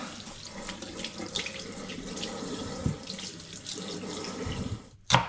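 Fruit rinsed under a running kitchen tap before being chopped for a steam juicer, water pouring steadily and close with a brief louder splash near the end.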